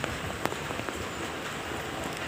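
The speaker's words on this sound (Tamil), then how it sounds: "மழை பெய்யறதுனால தாங்கவே முடியலங்க" Heavy rain pours steadily in Madurai, a dense, continuous hiss of drops drumming on surfaces with scattered sharper splashes, loud and unbroken throughout with no voices.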